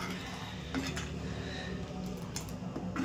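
Rice-flour phirni simmering in a pot while being stirred constantly, giving soft, steady scraping and faint clinks of a spoon against metal over a low background hum, with no talk.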